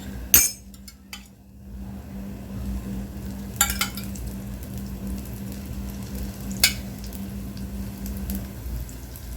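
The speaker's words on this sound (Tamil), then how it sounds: "இப்போ சுற்றி எண்ணெய் ஊற்றிக்கலாம்" Kara adai frying on a pan as oil is poured around its edge, giving a steady low sizzle with a couple of sharp clinks near the start and a few faint taps later.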